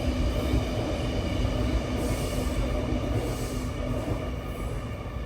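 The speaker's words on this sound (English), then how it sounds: "hold up, there's a train." A train passes close by in a dense, loud, continuous rumble of wheels and cars on the rails, with faint high squealing over the steady roar and no talk.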